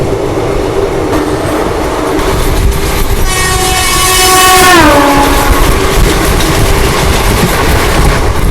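Nagarsol Chennai Express pulling into Rajampeta station: steady rail rumble and rolling clatter, with a loud multi-tone train horn sounding for about two seconds midway and bending down in pitch as it passes, then the wheel noise continuing.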